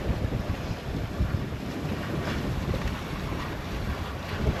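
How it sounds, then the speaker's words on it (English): A sailboat runs under a steady, close rush of wind buffeting the microphone, with broadband water and hull noise churning continuously and no voices. "Well, we're still sailing."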